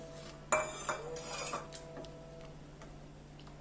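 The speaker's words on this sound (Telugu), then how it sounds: "సాబుదానా కూడా అసలు గడ్డలు కట్టకుండా బాగా మిక్స్ చేసుకోవాలి." Metal spoon clinking against a pot while cooked sabudana is mixed into bottle gourd kheer, with a few sharp clatters early on and softer scraping after, close by with no talk.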